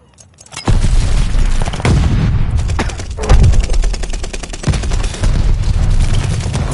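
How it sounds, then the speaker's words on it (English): Rapid overlapping gunfire and booming shots fill a chaotic Call of Duty: Vanguard multiplayer battle at a contested hardpoint, including sniper rifle fire, loud and dense throughout with no talk. "Whoever sniped is still sniping out the window"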